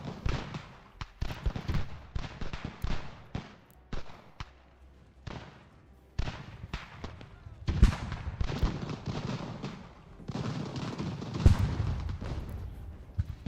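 Canister shot artillery thuds and booms repeatedly in Ultimate General: American Revolution, an irregular battle barrage of loud blasts and crackling musketry with some talk mixed in.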